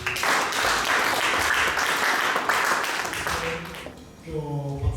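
A church congregation breaks into dense, sustained applause lasting several seconds before it fades, and a voice speaks as the clapping dies away.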